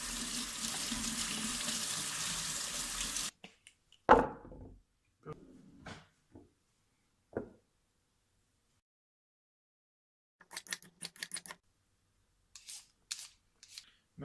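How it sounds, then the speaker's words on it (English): Tap water runs steadily for about three seconds while carrots are washed at a kitchen sink for pea soup, then stops, followed by scattered clicks, knocks and light handling sounds. "for the carrots, I usually wash them because it's easier for it to be peeled"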